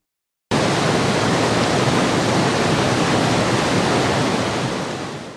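A waterfall pours down in a steady, loud, dense rush of water that starts abruptly and holds constant with no voices.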